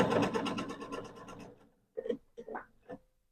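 A sewing machine stitching a quarter-inch seam through quilted fabric for a roll-up tool caddy: a fast, even run of stitches that stops after about a second and a half, followed by a few soft handling noises.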